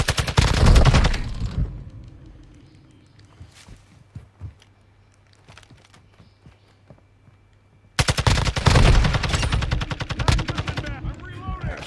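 A TAQ-56 rifle fires in Call of Duty Modern Warfare II: a loud opening burst, a quieter stretch with scattered distant shots, then another long, rapid, close volley.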